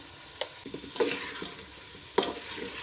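Chicken pieces frying in a hot pan as salt goes in for a green masala biryani, a steady sizzle broken by a few sharp scraping stirs.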